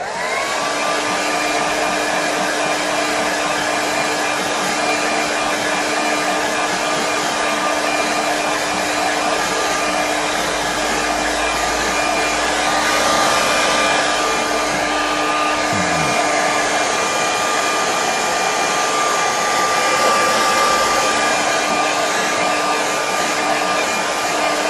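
A hair dryer runs steadily to quick-dry paint on a painting, a constant loud whooshing whine with a faint tonal hum, alone with no talking, its pitch dipping briefly midway.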